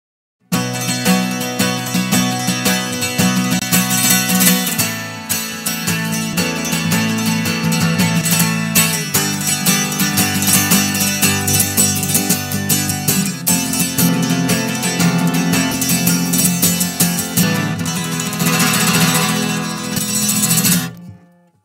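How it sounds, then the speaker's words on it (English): A 12-string acoustic guitar strummed fast with the Goliath saturation-compression plugin bypassed, giving a dense, loud, continuous run of bright chords for about twenty seconds before it stops, with no talking. "we have the 12-string acoustic guitar. This is going to be a fast strum."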